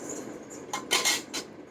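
A small steel lunch-box container and a spoon are handled, giving a few quick metallic clinks and taps close by in the second half, over a quiet room with no talking.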